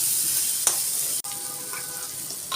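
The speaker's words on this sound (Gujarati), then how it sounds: "હવે તેની અંદર અડધી ડુંગળી થોડી ઉમેરીશું તેને પણ સારી રીતના મિક્સ કરી લઈશું" Onion fries in hot oil with mustard seeds, cumin and asafoetida while being stirred, giving a steady close sizzle with a few sharp scrapes of the spoon.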